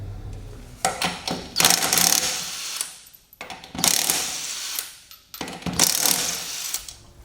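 Ratchet wrench loosening wheel nuts on a Toyota 4Runner, three bursts of rapid clicking close up, each lasting about a second and a half, with brief quiet gaps and handling noise between them.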